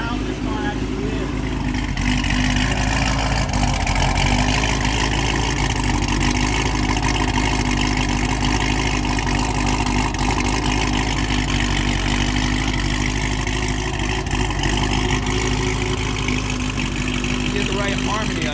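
2017 Corvette Z06 tuned to 1400 horsepower idling with a loud, lumpy, throbbing rumble that stays steady throughout, heard close up with talking over it.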